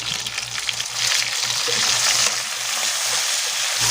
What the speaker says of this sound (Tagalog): Pritoyin natin yung patatas.